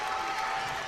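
Basketball crowd in a college gym applauding and cheering during a timeout, a steady dense wash of clapping all the way through.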